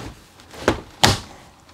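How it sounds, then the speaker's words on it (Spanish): A sliding bathroom door inside a Mercedes Sprinter 4x4 camper van gives two quick, close knocks as it slides and shuts, with a short quiet gap between them. "La puerta es corredera"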